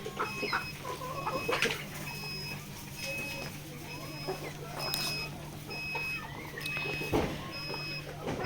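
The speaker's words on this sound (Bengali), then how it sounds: "এখানে দেখতে পাচ্ছেন ফার্মে মিশরি বা মুরগি রয়েছে" Egyptian (Mishri) chickens on a poultry farm cluck and chatter continuously at a moderate distance, with occasional louder squawks and a steady mechanical hum beneath, and no clear talk.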